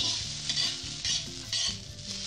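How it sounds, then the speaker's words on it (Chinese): Edamame is stir-fried in a dry pan with no oil, giving a steady sizzle with repeated scraping strokes of the spatula, close and continuous. "就这样煸炒一会儿"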